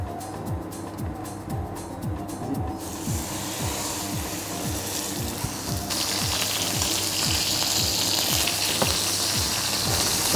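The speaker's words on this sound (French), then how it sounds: "On va colorer le quasi de veau à l'huile d'olive." Veal rump searing in olive oil in a hot pan gives a continuous close sizzle that grows louder and brighter partway through, under a rhythmic mechanical ticking in the background, with no voices.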